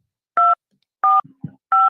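Phone keypad buttons are pressed, giving three loud, clean dual-tone beeps at a steady pace, with a couple of soft low clicks between the second and third.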